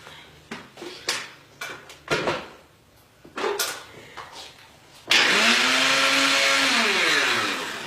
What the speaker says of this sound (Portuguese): Faz o seguinte, liga o liquidificador.